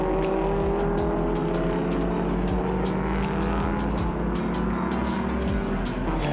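Vintage racing cars roar around a circuit, a Ford Mustang lapping a Ford Cortina, with loud, sustained engine drones, layered gear-changing whines and repeated quick passing whooshes.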